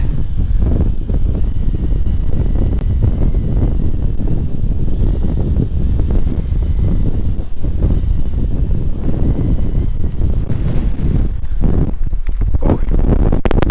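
A cold, steady wind buffets the microphone on the Cross Fell summit in England, roaring loud and continuous with gusty rumbles throughout and no talk.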